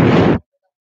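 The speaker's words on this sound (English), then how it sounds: "Skull explosions are looking like" A short, full-bodied burst from the skull explosion boost effect in Rocket League, loud and dense for under half a second before cutting off abruptly into silence.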